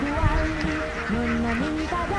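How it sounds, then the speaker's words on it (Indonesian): A group of ducks crossing railway tracks keeps up a continuous, loud honking quack, with overlapping calls blending into a steady chorus close by. "Oh, rupanya bebek-bebek ini mau menyeberang rel"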